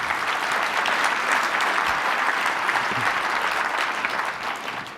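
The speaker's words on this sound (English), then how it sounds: "we want to applaud them and Michael Crow" An audience at an opening keynote at the 2015 ASU GSV Summit gives steady, loud applause that holds dense throughout and thins slightly at the end.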